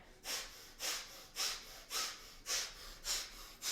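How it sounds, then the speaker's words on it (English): Rapid rhythmic nasal breathing of breath of fire during a kundalini kriya, seven even bursts of sharp exhaled air roughly every half second, close and alone. "Beautiful, powerful breathing in and out through the nose."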